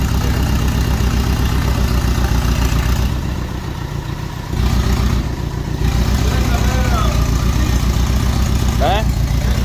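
A hatchback car engine runs steadily up close with its turbo spinning, a low even drone that dips briefly midway before returning at full strength.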